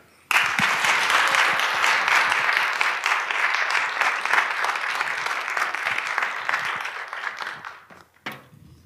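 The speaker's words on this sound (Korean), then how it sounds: "지금 이 자리에 모실 때 진심으로 따뜻한 박수와 함께 격려해 주시면 감사하겠습니다" A church youth group audience gives a long, warm round of applause to welcome a missionary speaker, starting abruptly, staying full and steady for several seconds, then fading out with a few last claps.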